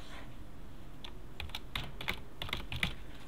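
Computer keyboard keys clack in a quick, irregular run of close, crisp taps, including a spacebar press, over a faint steady background hum.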